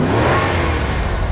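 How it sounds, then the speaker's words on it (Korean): A supercharged V8 engine in a Karin Previon video-game car revs loud and close, a sustained throaty roar with no voices over it. "제가 엔진 소리 한번 들어볼게요."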